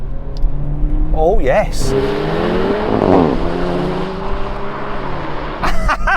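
Honda Civic Type R and VW Golf GTI Clubsport accelerate hard from 50 mph in a rolling drag race, engine notes climbing and shifting with gear changes, loud and close, with brief exclamations from a voice.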